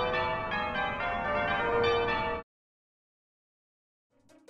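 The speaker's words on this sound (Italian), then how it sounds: "I rintocchi della campana riecheggiano nei dintorni." A bell rings in a Pokémon Black video game, one rich sustained synthesized toll with layered harmonics lasting about two seconds, then cutting off abruptly to silence before a brief game sound.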